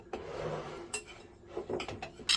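Spoon scraping and clinking against a bowl while cocoa and dry ingredients are stirred together for chocolate gravy, soft, irregular clinks and taps close by with quiet scraping between them.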